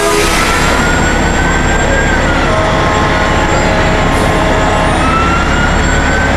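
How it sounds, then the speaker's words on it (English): Emergency sirens wail through a busy Christmas parade as National Guard vehicles roll past, sustained tones layered over dense crowd and traffic noise throughout. "we're hearing a number of sirens right at the moment"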